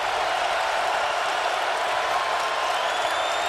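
Crowd at a college basketball game between Villanova and Virginia in Charlottesville, cheering and clapping in a loud, steady roar that fills the arena throughout.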